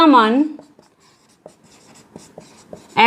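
Writing on a board during a class 10 maths lesson, with a few separate taps and scratches of the pen or chalk after a teacher briefly speaks, then another short spoken word at the end.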